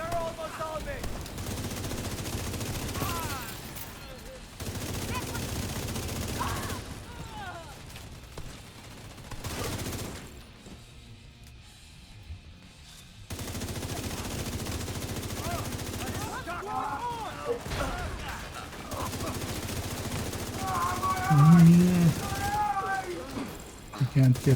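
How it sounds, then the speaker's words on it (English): Gunfire and flashbang blasts in a tactical video game, repeated bursts of shots and bangs broken by brief quiet gaps, with someone talking over much of it. "there's our flashbangs"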